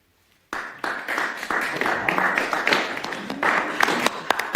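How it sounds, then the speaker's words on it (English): Dinner guests break into applause after an engagement announcement at an elegant gathering: a burst of many hands clapping that starts abruptly and holds steady, dense and moderately loud, with crisp individual claps standing out. "Methought I did hear the groundlings applaud."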